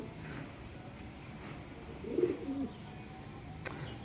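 A pigeon sits on its egg in a pigeon house, letting out a short low coo near the middle over a quiet, faintly rustling background, with no one talking.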